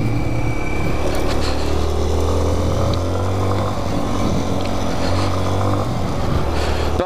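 A motorcycle rides slowly along a rough dirt road with straw and potholes, its engine droning steadily and loud throughout with small shifts in pitch.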